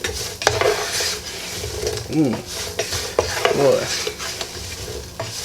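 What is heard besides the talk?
stirring home fries in a pan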